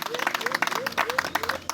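A congregation claps together at a baptism by immersion, the applause steady and close, with voices mixed in under the clapping.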